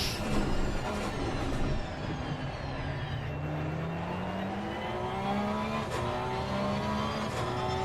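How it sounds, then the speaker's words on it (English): Race car engine at Snetterton circuit, loud and sustained throughout, with rising and falling engine tones as it accelerates and shifts on track, no talk over it. "Oh, that car sounds awesome."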